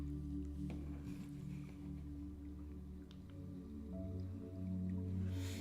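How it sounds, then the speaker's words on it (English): A meditation drone: a steady, sustained low tonal hum with layered harmonic tones, continuous and even throughout, with no voices. "just listen to this drone"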